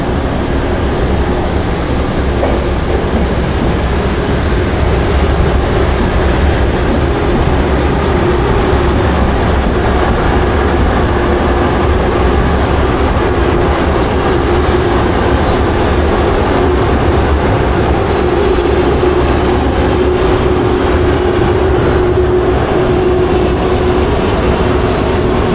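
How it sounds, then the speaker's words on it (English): A London Underground Metropolitan line train pulls into a station with a loud, steady rumble and hiss of wheels and motors that fills the whole stretch, with no one talking. "There's a Met Line train coming in."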